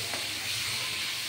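Coconut paste fries with onions in a pan, giving a steady, close, moderately loud sizzle and hiss with faint stirring underneath.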